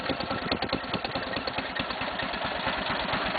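A Cub Cadet lawn tractor engine idles steadily up close, a low rumbling chug with a fast, even beat that stays constant throughout.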